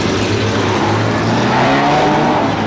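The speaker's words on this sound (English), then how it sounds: "The street stocks are going anti-clockwise around the Carnarvon Speedway." Street stock race cars roar anti-clockwise around Carnarvon Speedway during a short C-Main, a loud continuous wall of engine drone with a rising note toward the end, no voices.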